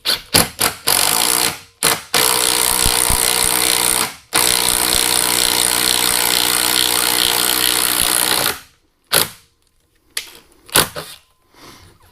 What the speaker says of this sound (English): So let's drill this guy out.